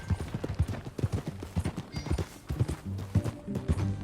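Steady rhythmic clip-clop of horse hooves at a walking pace in Red Dead Redemption 2, moderately close, with a faint murmur in the background.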